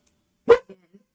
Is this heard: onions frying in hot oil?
no